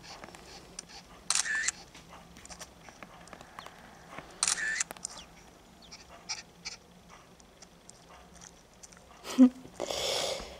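Shutter clicks from the camera in the Nintendogs + Cats game, two short bright snaps a few seconds apart amid soft in-game background sounds, followed later by another brief burst.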